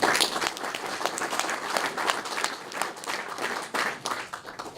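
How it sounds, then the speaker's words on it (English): A live audience gives a sustained round of applause for presenting students at an investor pitch event, dense broadband clapping filling the room at steady loudness for the whole stretch. "Why don't you guys give them a round of applause?"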